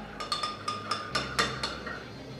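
A spoon stirring a homemade chai latte of almond milk and chai in a coffee cup, sounding as about eight quick, bright clinks against the cup in an uneven rhythm, close and clear with no talking.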